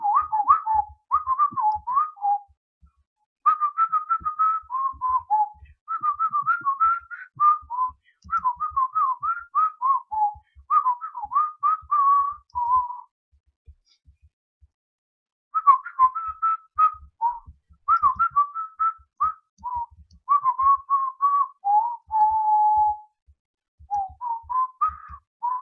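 A person whistles a lively, wandering tune at close range, with quick warbling notes in phrases separated by short breaths and one longer pause, alone without talk.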